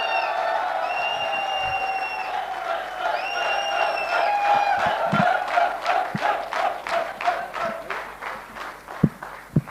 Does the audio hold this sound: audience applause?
yes